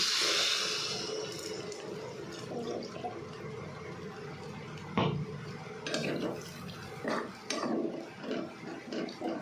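Leftover water from grinding poppy seeds poured into a cooking pot, a gushing pour at first that settles into quieter sloshing and a few irregular splashes.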